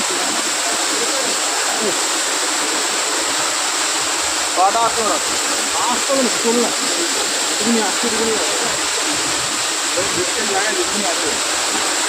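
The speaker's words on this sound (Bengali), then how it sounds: "ঝর্নার সামনে রয়েছি একদম" A waterfall in the Ayodhya hills of Purulia roars as a steady, loud broadband rush of falling water from close by, with brief louder splashes partway through and no talking.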